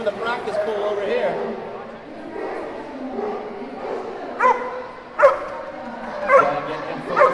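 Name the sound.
dog barking excitedly at dock diving practice pool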